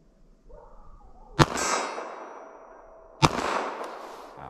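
Two sharp shots from a compact .380 pistol about two seconds apart, each followed by a ringing clang from a steel target and a decaying echo outdoors, with no talk.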